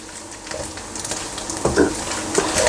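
Mutton keema frying in a karahi gives a steady sizzle and crackle with scraping stir strokes, close and moderately loud, with no voices.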